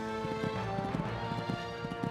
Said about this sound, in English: This horse has a great style of jumping.